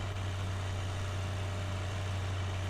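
A tractor engine idles in the video game Farming Simulator 2013, a steady, low, droning hum with a strong constant tone that holds evenly throughout with no change in speed.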